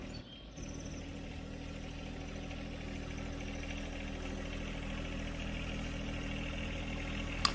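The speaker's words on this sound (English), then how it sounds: "here I am picking it up with my John Deere 1025R tractor with the homemade forklift attachment" A John Deere 1025R compact tractor fitted with a homemade forklift attachment runs steadily at a distance, a low continuous drone throughout with a brief click near the start and a tap at the end.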